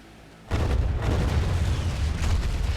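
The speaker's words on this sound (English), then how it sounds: "The explosions got louder." A sudden burst of deep, rumbling booms from the video game Far Cry 4 kicks in and keeps roaring, like sustained explosions going off close by.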